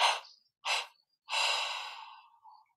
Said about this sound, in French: prenons une inspiration profonde. Expirons 3 fois.